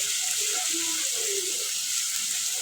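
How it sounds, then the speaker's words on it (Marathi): Eggplant pieces fry in a pan with a steady, bright hiss of oil, constant and close, with faint scraping hints beneath and no voices over the sizzle. "मस्त परतून घ्यायचं वांगी चांगली परतली आहेत"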